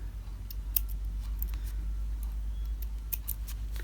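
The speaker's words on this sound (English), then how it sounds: "I have these little squeezing scissors like. I found that these were easy to go ahead and trim all these little threads up" Small squeeze scissors snip loose fabric threads on a sewn pocket tissue holder, producing a series of crisp, close clicks spaced irregularly over a steady low hum, with no talk.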